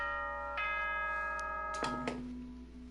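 Danganronpa 2 video game announcement chime: a few clear bell-like tones ring out in sequence over a low steady hum, each decaying slowly with no voices.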